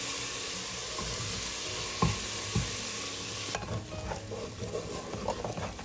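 Sliced onions for chole are stirred and sautéed over low heat in a pot, producing a soft continuous sizzle with a few sharper scrapes and knocks from the spoon.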